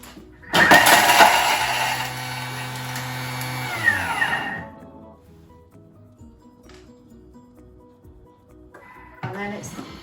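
A Thermomix kitchen machine blitzes 20 grams of ginger at speed 9, a loud whirring blender roar lasting about four seconds before spinning down, followed by quieter rattles and handling clicks near the end.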